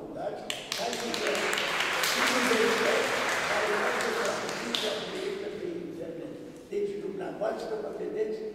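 An audience at a book launch bursts into sustained applause, dense clapping that swells and then tapers, with speech continuing over and after it.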